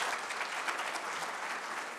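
Audience applause at a panel discussion event, a dense, steady patter of many hands clapping, moderately distant and even in level for the whole short stretch.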